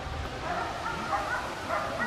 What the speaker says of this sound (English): those dogs have been going nuts for the last 5 minutes